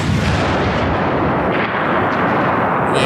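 Heavy gunfire from a sniper, a loud sustained barrage of booming shots with no pauses, dense and close throughout.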